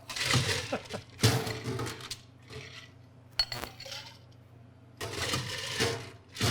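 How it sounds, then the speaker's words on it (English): Ice cubes dropped into a glass cocktail mixing beaker while a Boulevardier on the rocks is being made; a few loud, close clattering bursts with quieter pauses between them. "I'm going to put my ice in my mixing beaker."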